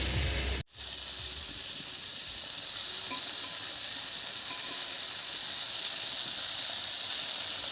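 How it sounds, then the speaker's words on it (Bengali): Ground mustard spice paste hits a hot pan for a river-fish curry with tomato and peas, a steady close hiss and sizzle that continues evenly after a momentary drop at the start. "এবার এর মধ্যে দেব বাটা মশলাটা"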